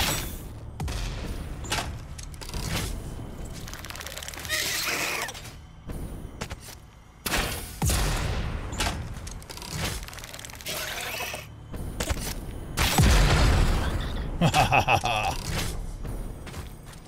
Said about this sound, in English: the rebar gun with the exploding rebars